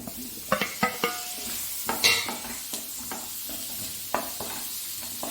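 Coriander powder and garam masala are sautéed in a pan, a soft sizzle broken by irregular scraping and clinking strokes of a spoon against the metal, close up and without talk.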